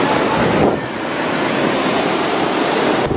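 Pacific Ocean surf breaking on the shore, a loud continuous roar of churning waves with wind buffeting the microphone, swelling and easing slightly but never letting up.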